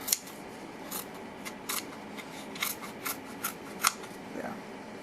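Scissors snip off excess fabric from a cheap miniature couch being redone, a series of about eight short crisp cuts at an uneven rhythm, close and fairly quiet over low background noise.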